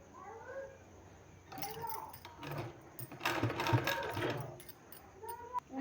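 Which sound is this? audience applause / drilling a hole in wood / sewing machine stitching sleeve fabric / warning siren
sewing machine stitching sleeve fabric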